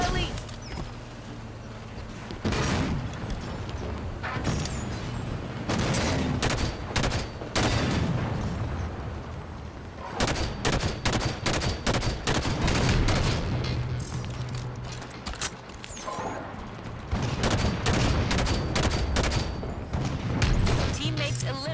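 Dense, continuous gunfire from the Halo 5 Firefight video game, with rapid bursts and booms layered over one another for the whole stretch, loud and close, with occasional game voices mixed in.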